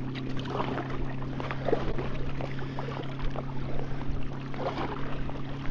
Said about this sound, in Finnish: Sitten tuli toi moottorivene tuohon.